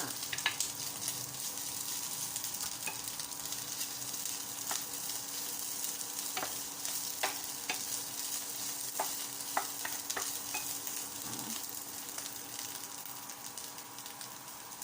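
Pad Thai ingredients with yellow tofu being stir-fried in a pan, with a continuous close sizzle and scattered scrapes and taps of a utensil stirring, steady throughout with no talk.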